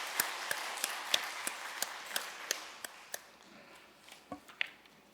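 A congregation clapping at a Sunday church service, sparse separate claps at a steady beat that thin out and grow fainter toward the end, in a quiet room.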